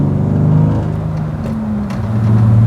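BMW E36 car engine revving up and settling, a steady loud motor drone with rising and falling pitch, close by and continuous, no talking.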